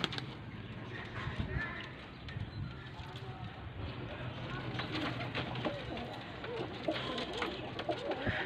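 Pigeons in a loft coo softly and continuously, mixed with fluttering and scuffling, while someone talks over them in Hindi or Urdu.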